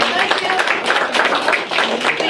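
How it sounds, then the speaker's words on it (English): A school class claps together in a brief burst of dense applause lasting a couple of seconds. "And we're ready to clap for Lee"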